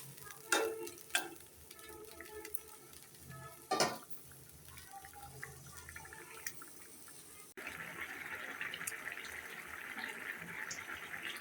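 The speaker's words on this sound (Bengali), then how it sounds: "এখন ভালোভাবে পেঁয়াজটা তরকারির সাথে মিশিয়ে নিব" Onion is stirred into a fish curry in a pan, with a few sharp utensil knocks and scrapes over a soft bubbling simmer, followed by a steadier sizzle.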